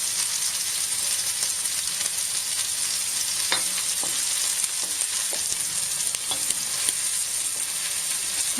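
Peppers frying in a pan for chilli mogo, a cassava dish, with a steady close sizzle throughout and a few light clicks of stirring. No one speaks.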